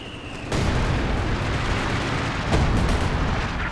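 A howitzer fires in Company of Heroes 2, a loud sustained boom rolling out with heavy low rumble and a second blast-like swell near the end, with no talking over it.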